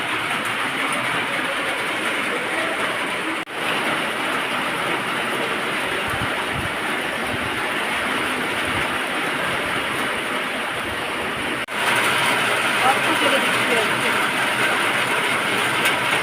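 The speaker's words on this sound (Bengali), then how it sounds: "কেমন করে বৃষ্টি হচ্ছে।" Heavy rain falls steadily in a dense, loud, broadband wash of patter that runs unbroken throughout, with two brief dips in level and a slightly louder stretch near the end.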